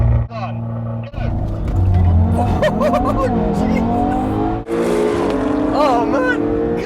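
A Honda NSX and an Audi TTRS launch side by side in a drag race: engines rev and climb in pitch through the gears with tyre noise, loud and close, while voices exclaim over the roar.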